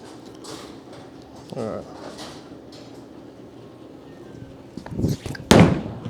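A Brunswick Quantum Evo bowling ball rolls down the lane and crashes into the pins, giving a loud, sharp clatter near the end, after quiet alley ambience with voices.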